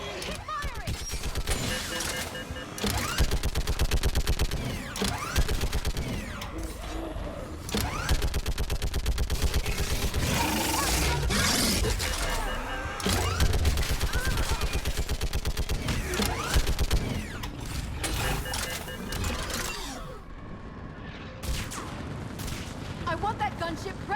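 Sustained, heavy gunfire from a Mass Effect 3 firefight, with dense bursts and blasts rolling almost continuously at close range while voices shout over the battle.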